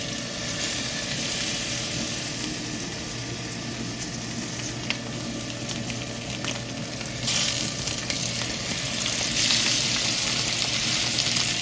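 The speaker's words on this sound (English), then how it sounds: "So we're going to go ahead and get this into the hot oil, skin side down." Chicken pieces frying skin side down in hot oil, a steady close sizzle and crackle that runs throughout and swells louder in the final few seconds.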